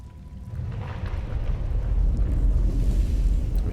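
Rushing water released by a trap in Skyrim's Dragonborn DLC, a low roaring surge that swells in over the first seconds and holds steady and loud.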